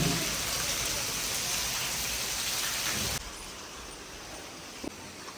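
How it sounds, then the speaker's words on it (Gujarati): Steady rain falls during a cool spell, a dense even hiss that drops abruptly to a softer patter partway through, with one brief knock near the end and no voices. "અત્યારે કેવો સરસ વરસાદ આવ્યો, ઠંડુ વાતાવરણ કરી દીધું છે"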